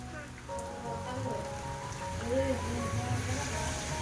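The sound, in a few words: rain falling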